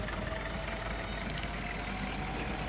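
A tractor engine idles in the farming game Agricultural Simulator Historical, a steady low rumble that holds evenly throughout with no voices.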